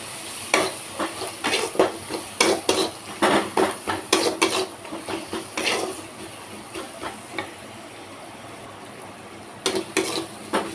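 Spices and Kashmiri chilli frying in a pan for tawa pulao, with repeated sharp scraping and clinking of a spatula stirring against the metal over a steady low sizzle, the strokes coming in irregular bursts.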